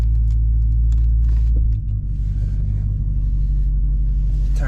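Deep, loud rumble of a Dodge Hellcat SRT muscle car engine close by, holding a heavy low drone with a brief dip and surge partway through, inside the car.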